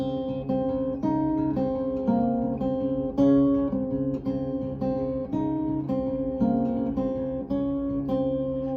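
An acoustic guitar plays the fingerpicked intro of a song alone, close and clear, with evenly spaced plucked notes ringing in a steady, repeating pattern.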